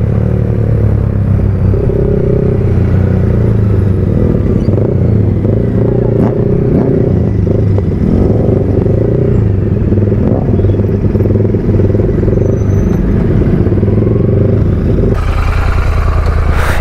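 Several superbikes run at a roadside dhaba beside a petrol pump, a loud, dense engine drone that holds steady for the whole stretch and shifts in tone near the end.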